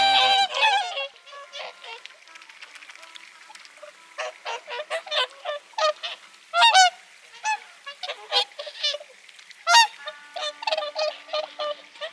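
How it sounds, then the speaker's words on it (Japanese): A flock of swans at a lake in Hokkaido in frigid winter gives repeated loud, nasal honks in irregular bursts and overlapping calls, close by in an otherwise quiet setting. "あれ、白鳥。"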